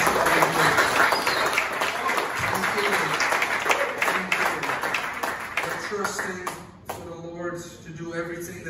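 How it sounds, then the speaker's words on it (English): Church congregation offering a hand clap to the Lord, a dense wash of clapping filling most of the clip before thinning out near the end, with voices and a musical tone sounding underneath. "offer up a hand clap to the Lord."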